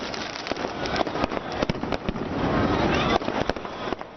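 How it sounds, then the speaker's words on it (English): Fireworks at the Golden Temple during the Prakash Utsav celebration, with rapid crackling bursts and pops over a dense, continuous background, distant booms layered with nearby cracks, and crowd noise underneath. "At the occasion of Prakash Utsav, devotees also enjoyed the amazing fireworks at the Golden Temple."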